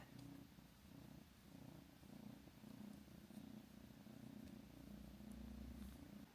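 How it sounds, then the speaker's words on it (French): A newly adopted cat purrs softly and steadily, a close, faint rhythmic rumble continuing throughout without pauses or talk. "Je sais pas si vous entendez un ronron."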